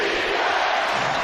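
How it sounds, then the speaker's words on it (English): Basketball arena crowd roaring steadily through the late minutes of an NBA game between the LA Clippers and Indiana Pacers, a dense, loud wash of cheering with no pauses. "Crowd loving it."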